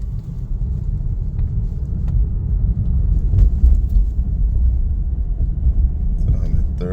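A 2021 BMW G20 330e hybrid sedan pulls away on the road, heard from inside as a steady low rumble of road and drivetrain noise, with occasional light knocks and a voice at times.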